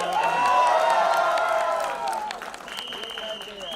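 An audience applauds and cheers at a trailer launch for the film Tu Jhoothi Main Makkaar with its lead stars, a dense burst of clapping and shouts under a loud voice, fading slightly before a whistle-like tone cuts in.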